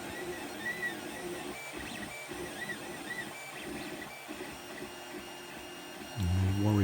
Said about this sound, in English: that bit at the back there looks like it's printing okay and it's nearly finished